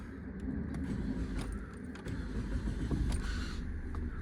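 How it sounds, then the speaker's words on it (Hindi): A Maruti Ertiga Tour M CNG taxi with 2.5 lakh km on it starts on the self-starter. There is a short crank, then the engine catches and runs nearby, with small clicks and rattles. "भाई एक सेल्फ में स्टार्ट होगी अपनी गाड़ी, देख सकते हो"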